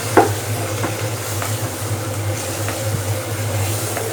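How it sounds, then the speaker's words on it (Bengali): Potatoes and tomatoes sautéed in a pan make a steady close sizzle, with a few soft spatula scrapes spaced out over a low, constant hum. "এখন হচ্ছে এটার কাজ হচ্ছে ভালো করে কষানো"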